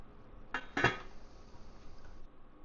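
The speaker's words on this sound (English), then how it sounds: "Put the pot on the stovetop, turn the heat to medium, and cover." A cooking pot of fresh garden tomatoes for sauce clanks twice onto a stovetop as its lid goes on, two quick, fairly quiet metallic knocks close together, then a soft room hush.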